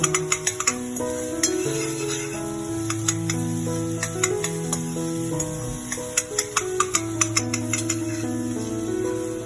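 Egg fried rice stirred in a pan, with a steady run of light scraping clicks and taps over continuous background music.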